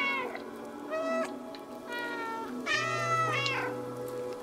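A red cat in the video game Stray lets out a series of clear, close meows, four or five distinct calls with short gaps between them.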